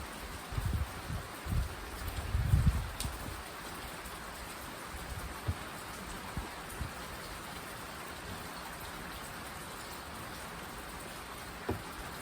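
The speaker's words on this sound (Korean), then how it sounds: "비 오는데 빗소리 너무." Steady rain falls in Taiwan with a soft, even hiss, punctuated by a few nearby drips and low thumps, without any talking.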